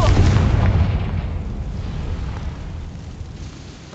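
A Confringo blasting spell explodes in Hogwarts Legacy with a loud booming burst at the start. The deep rumble then fades slowly over several seconds.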